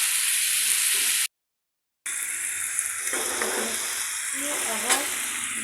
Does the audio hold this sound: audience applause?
no